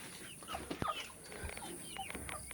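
Hens in a chicken coop of around forty birds, clucking and chirping close by in short scattered calls over a steady low barnyard hum.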